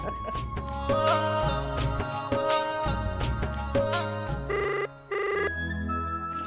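A telephone ringtone plays loudly over a busy musical backdrop, a repeating electronic melody with a brief dropout near the end.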